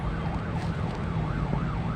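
An ambulance siren wails in repeated rising-and-falling sweeps as it passes, heard outdoors over steady traffic and ambient noise near a fishing spot.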